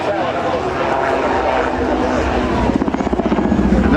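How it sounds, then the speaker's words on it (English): A Rotax-engined gyrocopter at an airshow flies in toward the crowd, its engine and rotor droning steadily and then growing into a pulsing, throbbing beat as it nears; a commentator talks over it. "he'll pitch the aircraft up, engage the Rotax and come straight towards us"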